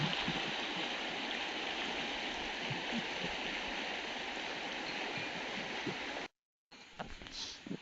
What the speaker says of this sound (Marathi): धबधब्याचं पाणी येते इथे.